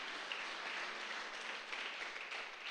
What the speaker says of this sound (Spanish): Vamos a dar una ofrenda de palmas a nuestro gran Rey de Reyes.